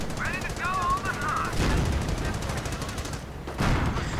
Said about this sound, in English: Heavy machine gun going to get covered in incendiary grenades.